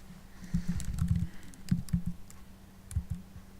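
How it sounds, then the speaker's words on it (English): Typing on a computer keyboard into a search field in the Premiere Pro interface, a few quick bursts of close clicking keystrokes separated by short pauses, with no talking. "I'm going to type in Premiere in my little search here"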